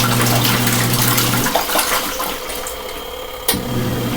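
Water runs loudly in an LG ThinQ MEGA Ultimate washing machine during a rinse cycle, then the rushing fill drops away into a quieter churning before a short thump and a brief return of flow.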